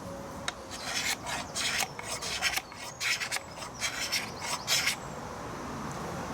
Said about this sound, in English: that's a cabinet scraper